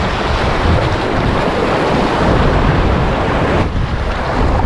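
Strong current and breaking waves wash loudly and steadily, with gusting wind buffeting the microphone, at a fishing spot on the water; no voices are heard over the rush.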